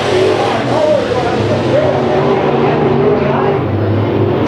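Race cars roar around a dry, dusty dirt oval at Chowchilla Raceway during heat races, a dense steady engine drone close by, with a commentator talking over it.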